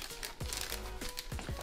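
A paper hot dog bag is wrapped around a sausage at a home-made restaurant counter, giving brief crinkling rustles and a few sharp papery crackles close by, with no talk.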